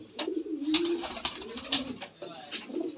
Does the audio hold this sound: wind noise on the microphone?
no